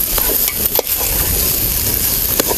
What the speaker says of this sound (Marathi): सगळं आपण एकजीव करून घेऊया